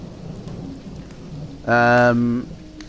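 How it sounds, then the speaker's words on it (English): Steady rain hisses throughout an outdoor thunderstorm, and a short, loud tonal burst rises out of it partway through before the rain carries on alone. "and then suddenly a storm comes outside"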